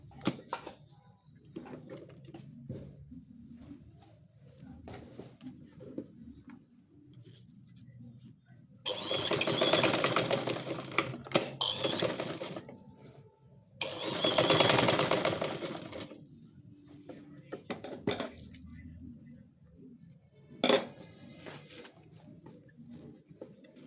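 A sewing machine stitches down a waistband in two loud, sustained bursts of rapid needle chatter, separated by quieter handling noises and a short pause.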